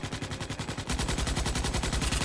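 Rapid automatic gunfire in a Starship Troopers game, a steady rhythmic rattle of shots that grows louder and denser after the first second and continues without pause.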